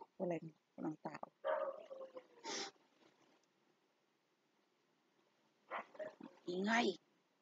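A dog barks in several short bursts, fairly close and loud, with a pause before another cluster of barks and snorts.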